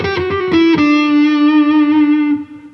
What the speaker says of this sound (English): If you put a lot of distortion on it